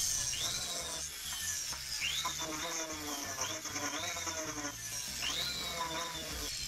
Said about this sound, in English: use some diamond burrs to tidy up the hollow sections of the claw